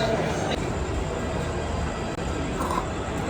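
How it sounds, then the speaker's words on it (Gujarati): Busy, crowded railway station ambience with a packed train rumbling close by and a crowd murmuring, a steady dense wash of noise. "રેલવે સ્ટેશનનો આ માહોલ છે."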